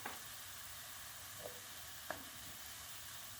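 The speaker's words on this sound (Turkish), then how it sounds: "Taze soğanımı çok az çeviriyorum." Chopped green onions sauté in olive oil in a pan, a soft steady sizzle heard up close, broken by a few light clicks as they are turned once or twice.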